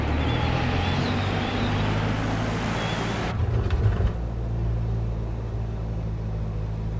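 A Cessna 172 engine roars steadily inside the cabin during spin recovery, then drops suddenly to a lower, quieter drone partway through.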